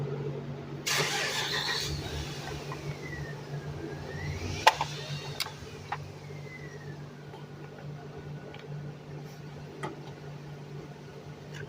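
A 2004 Honda Civic with a misfire on cylinder 2 idles close by in a steady low drone, with a whooshing start-up burst early on and scattered ticks and clicks over the uneven running.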